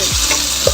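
Vegetables frying in a pan while being stirred, a steady sizzle broken by two sweeping scrapes of the spatula, close and fairly loud with no talking.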